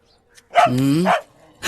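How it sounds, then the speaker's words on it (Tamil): A dog gives one drawn-out, whining bark, loud and close, followed by the start of another bark. "என்னைக்கு இல்லாம நம்ம நாய் இன்னைக்கு இப்படி குலைக்குது?"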